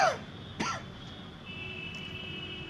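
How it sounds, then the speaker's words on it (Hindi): A man's dry cough, two short harsh bursts about half a second apart, close and fairly loud against a quiet room hum. "खांसी आ गई यार।"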